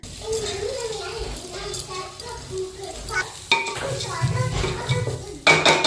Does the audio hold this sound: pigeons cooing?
no